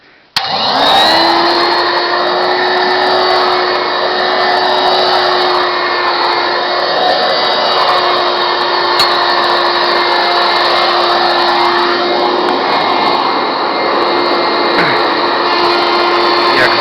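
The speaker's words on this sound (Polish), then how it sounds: "Odkurzacz jest z ledka, że tak powiem, poobijany, ale wychodzi." An old, battered EFI vacuum cleaner switches on and runs loud and close with a steady whining drone for the whole stretch, with no talk.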